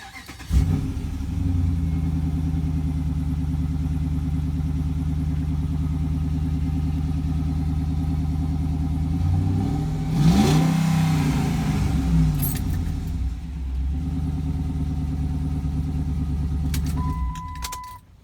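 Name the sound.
truck engine starting and revving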